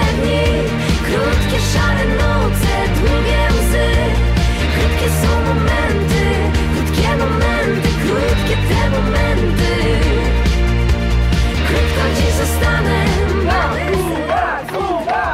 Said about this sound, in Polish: Ogromne, ogromne brawa.